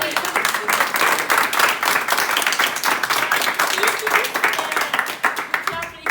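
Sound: audience applauding

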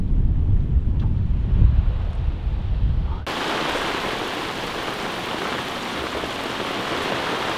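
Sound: strong Christmas trade winds at sea

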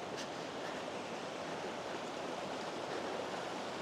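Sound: small cascading waterfall at a mountain creek

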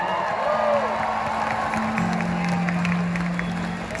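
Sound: concert audience applause and cheering

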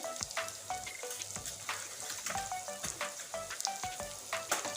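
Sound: soybeans frying with turmeric in a pan

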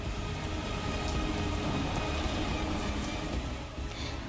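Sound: heavy rain

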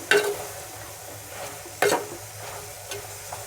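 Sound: brinjal, tomato and field beans frying in a pan

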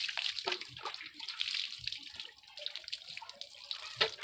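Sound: water poured over head rinsing off Holi colour

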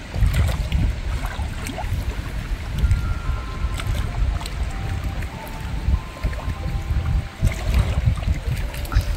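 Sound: wind blowing while fishing on the Danube

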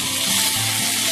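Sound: stirring tomatoes with coriander powder frying in pan

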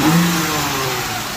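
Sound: car engine starting and revving

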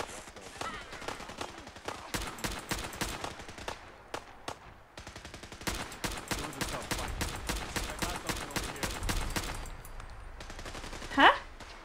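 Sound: gunfire in the video game Fallout 4

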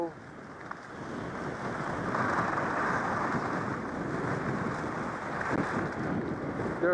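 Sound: snow guns blowing snow at ski resort

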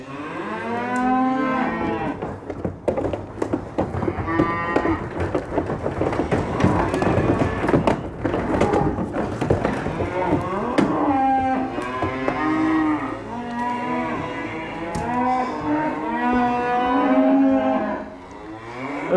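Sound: cattle mooing

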